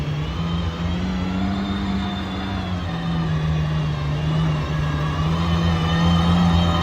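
An Aston Martin Valkyrie hypercar pulls out, with a steady, loud engine drone and a low hum that rises slightly as it drives away, continuous throughout.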